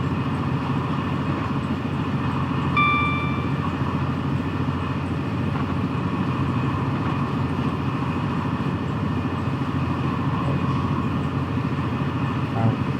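Continuous rumble and rolling drone of a train on the Trent Valley line of the West Coast Main Line in Train Simulator Classic, steady and loud with a brief tonal whine early on.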